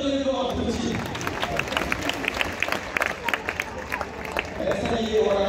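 Festival crowd applauding during a recortadores bull event at the Fête de la Madeleine in Beaucaire: dense, sustained clapping with crowd noise, while an announcer talks over it.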